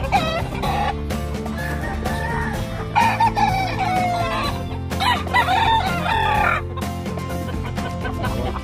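Two gamefowl roosters in Manaoag, Pangasinan crow and cluck loudly and close by, overlapping calls rising over a constant background din.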